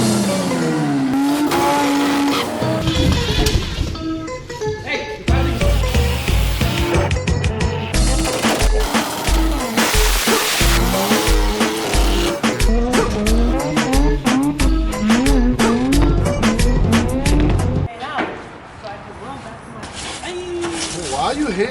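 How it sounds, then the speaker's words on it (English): A burnout truck does a tire burnout, its engine revving loud and hard in repeated climbing bursts with screeching tire squeal, sustained for many seconds before dropping briefly and then roaring again. "We're gonna do Burnout with it."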